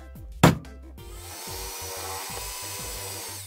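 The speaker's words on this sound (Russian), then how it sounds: "Теперь мне остается здесь просверлить отверстие и чем-нибудь зафиксировать ее." An electric drill starts with a sharp whirr and then bores steadily into a fishing feeder spring assembly to take an aluminium rivet, heard close and fairly quiet amid faint rhythmic background thumps.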